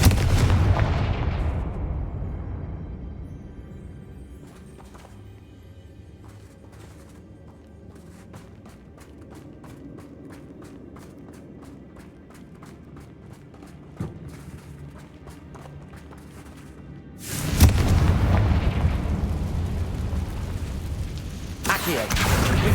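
Explosive spells Bombarda and Confringo cast in the video game Hogwarts Legacy, a heavy burst of booms opening the stretch, scattered sharp thuds in between, then another loud blast near the end.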